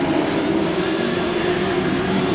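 Grasstrack racing motorcycles rev together on the start line under starter's orders, a loud, steady, droning engine roar that holds without a break.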